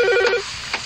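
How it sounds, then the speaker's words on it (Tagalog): A telephone gives one short electronic ring burst that stops abruptly, followed by a brief quiet moment with a faint rustle. "Tubaga sa telepono kadiyot be."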